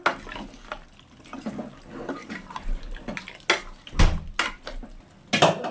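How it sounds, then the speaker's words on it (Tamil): Water pours into a pot of egg curry, a splashing stream that comes and goes, mixed with clinks and knocks of a pot and a utensil, close by and moderately loud. "இப்போ நல்லா தேவையான அளவு தண்ணி ஊற்றியாச்சு"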